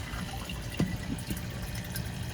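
Water runs steadily from an open-hole PVC pump line, its brass nozzles removed, into a hydroponic Dutch bucket of tomatoes, a soft continuous trickle with a few faint splashes and no talking.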